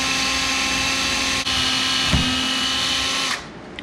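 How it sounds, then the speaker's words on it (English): A cordless drill drives screws into a table saw workstation, its motor whining steadily and close for over three seconds with a brief dip midway, then cutting out near the end. "run them through with the drill"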